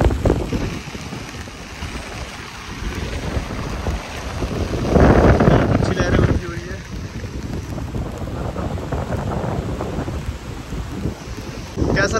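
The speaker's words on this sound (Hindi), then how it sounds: "भाई क्या लहरें हैं।" Sea waves and heavy rain at Varca beach in Goa, a broad, windy roar of surf and downpour that swells noticeably midway before settling back to a steady wash.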